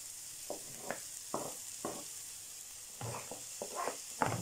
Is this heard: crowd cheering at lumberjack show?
no